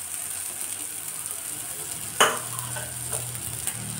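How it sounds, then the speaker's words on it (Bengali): Vadas frying in oil over a low flame as they are pressed down, giving a steady soft sizzle with a few sharper stirring or scraping knocks near the end and no talk. "খুব কম আঁচে ভাজতে হবে, চেপে চেপে বড়াগুলোকে একটু চাপ দিয়ে দিয়ে ভাজতে হবে।"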